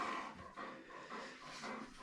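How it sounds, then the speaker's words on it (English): A dog pants in quick, steady breaths close by, soft and rhythmic, in a quiet indoor bathroom setting. "It's the dog panting away."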